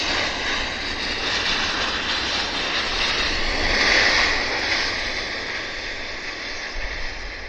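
WestJet Boeing 737-700 jet accelerating on its takeoff roll, a continuous loud engine roar and whine that swells midway then eases slightly, heard from a distance with no talk.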